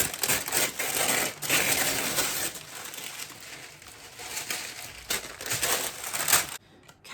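Paper being ripped and crinkled to line a baking tin for brownies, a close, continuous rustling and crumpling with sharp tearing bursts that runs throughout and stops abruptly near the end.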